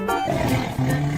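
A tiger roars loudly and continuously, a deep, rough growl that swells and sustains throughout with no voices present.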